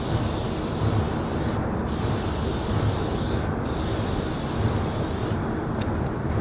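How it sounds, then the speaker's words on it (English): A can of white spray paint hisses in one long, steady, continuous burst at close range, broken by a few brief pauses near the end. "I'm gonna do one pass on each. Let me make sure it's spraying"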